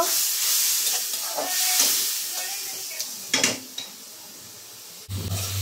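Shoil (snakehead) fish bhuna curry with turmeric, chili powder and a splash of water sizzling and hissing steadily in a pan as it is stirred, with brief scrapes and a louder burst near the end, no talking.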